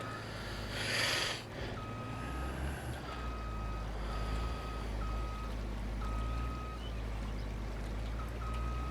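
Farming video game vehicle reversing a dolly trailer, giving a steady series of evenly spaced reversing beeps over a constant low engine rumble, with a brief rushing burst near the start.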